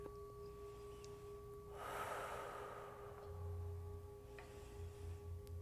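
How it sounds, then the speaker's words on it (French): A slow, deep breath during a hatha yoga pose, a soft airy inhale swelling and fading near the microphone, faint over a low steady hum, with no talking. "Prenez des grandes respirations ici."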